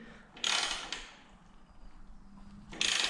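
Wrench on a bolt at a Harley-Davidson Sportster shock mount, heard as two short bursts of metallic clicking and scraping, one near the start and one at the end, with a quieter creak between them and no talk.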